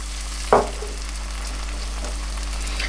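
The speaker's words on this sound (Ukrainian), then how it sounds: "Морква з цибулею майже готова. Тепер я додаю горнятку води." A sharp hiss as water is added to carrots and onions frying in a hot pan, then steady sizzling and frying continues.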